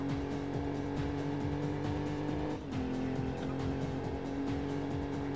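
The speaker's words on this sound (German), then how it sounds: "der Ferrari hört sich für mich jetzt gerade nicht so doll an" Ferrari engine from the PlayStation Need for Speed racing game (Brennender Asphalt), a steady synthetic drone with repeating rhythmic pulses and a brief dip midway, holding loud and close throughout.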